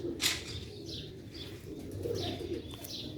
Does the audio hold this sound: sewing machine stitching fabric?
no